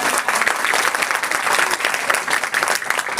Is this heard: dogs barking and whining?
no